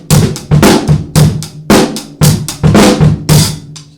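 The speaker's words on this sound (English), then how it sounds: "you'll hear snare drum as the backbeat in like a classic rock beat." Classic rock drum set beat with kick drum pulses and a snare backbeat, steady and loud at close range, the snare cracking on alternating beats over a continuous wash of cymbals.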